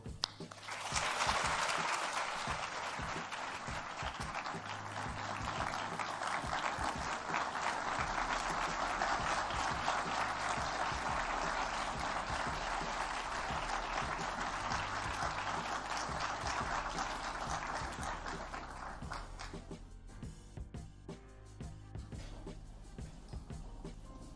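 A large audience applauds to welcome President Nana Akufo-Addo at a university event, steady sustained clapping for about twenty seconds that then fades away.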